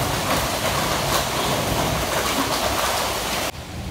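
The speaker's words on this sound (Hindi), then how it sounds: "ओले गिर रहा" A dense, steady clatter of hail falling, loud and continuous, cutting off sharply near the end.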